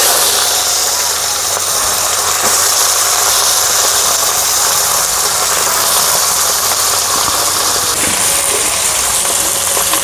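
Potatoes and French beans hiss in hot oil in a wok over a village cooking fire, a loud, steady, unbroken sizzle lasting throughout with no voices.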